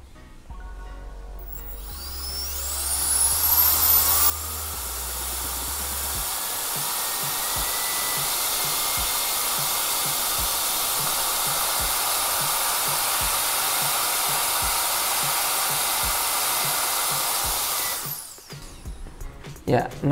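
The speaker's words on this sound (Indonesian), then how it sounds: "tipe violent atau angin yang kencang, dimana dia sudah bisa menghembuskan sampai di atas 150 gram" A Mini Jet Violent Fan Turbo X1001 battery blower runs at full power on a full battery, giving a loud, steady, high-pitched turbine whoosh that spins up, holds for about fifteen seconds, then cuts off abruptly.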